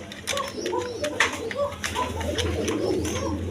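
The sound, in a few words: Iranian racer pigeon cooing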